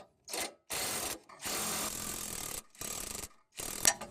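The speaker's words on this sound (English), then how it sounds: "Let me attach the nut here. Let me torque that down." Ratchet wrench tightening the nut on a Toyota Corolla stabilizer (sway bar) link: several bursts of rapid clicking, close and loud, separated by short pauses.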